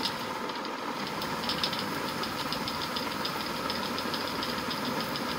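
A motorbike engine runs steadily close by, a continuous idling rumble with a faint knocking pulse throughout and no voices.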